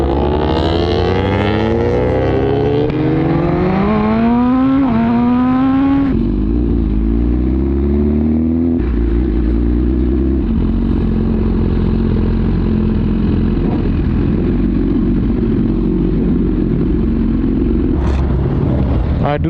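Superbike engine pulling away and riding out toward the highway, revving up through rising pitch sweeps and then settling into a steady, loud drone, with wind and road rumble close on the mic.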